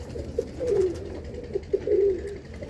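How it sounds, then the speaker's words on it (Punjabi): Domestic pigeons, kept flying birds at a fancier's home, coo in a steady run of soft, throaty rolling calls close by, with a few swelling phrases rising over light background murmur and no speech. "ਪੀਲੀਆਂ ਦੀ ਪੱਕੀ ਠਲ ਦੀ ਕਬੂਤਰੀ ਆ"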